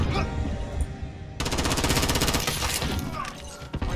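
Rapid automatic gunfire in a shooter game, a quick rhythmic burst of close, loud shots starting abruptly and running for a few seconds, followed by a couple of sharper cracks.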